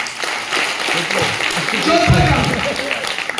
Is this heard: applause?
yes